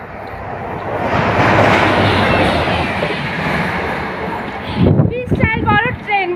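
A big train rumbles past nearby with a swelling, sustained roar and some rattling clatter, then fades as a person starts talking over it.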